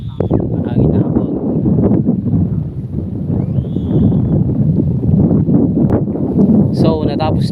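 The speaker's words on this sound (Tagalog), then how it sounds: "mahangin na hapon" Strong wind buffets the microphone on a windy afternoon in a rice field during planting, a loud, continuous low rumble under scattered voices and some faint higher calls.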